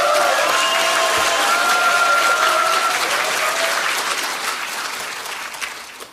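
Audience at a Democratic Party new members' academy event applauds loudly, a dense sustained clapping from a crowd that holds strong then gradually fades toward the end.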